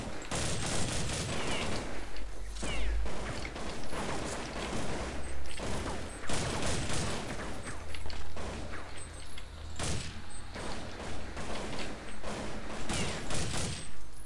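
Rapid bursts of gunfire from Counter-Strike 1.6 crackle through the whole stretch, dense volleys broken by short gaps, loud and close with repeated sharp reports.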